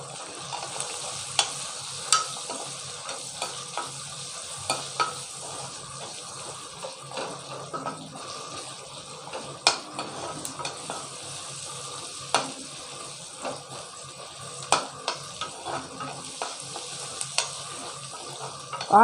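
Salted onions frying and being stirred in a pan, a soft steady sizzle broken by regular spatula scrapes and taps against the pan, close, with no talk.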